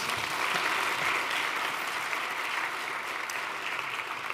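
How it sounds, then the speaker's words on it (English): Sustained audience applause at a college convocation in a hall, a steady dense wash of clapping at even level throughout with no talk. "Let's give her another quick round of applause."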